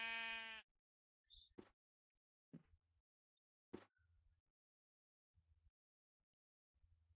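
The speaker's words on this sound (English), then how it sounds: "Get away, sheep." Blocky sheep in the video game Minecraft bleat a few times, short separate baas spaced out over several seconds, with quiet game sounds between them and a louder tone at the start.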